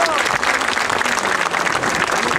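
Enthusiastic crowd applause from the townspeople of Santa María Huatulco at an evening cultural event; dense, lively clapping close by, steady throughout the short stretch, with some voices mixed in.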